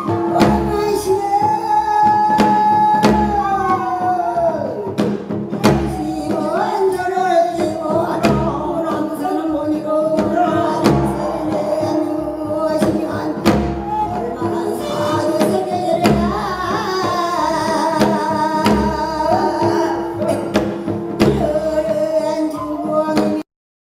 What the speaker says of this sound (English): Now let's listen to the actual song.